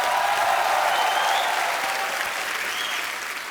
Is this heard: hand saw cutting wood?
no